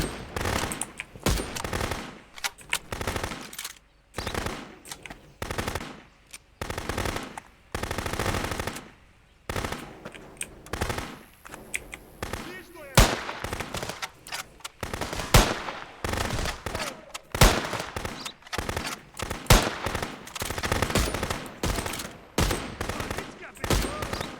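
Rapid AK rifle fire in the video game Contraband Police rattles almost nonstop in dense, loud bursts with only brief pauses, and faint talk sits underneath.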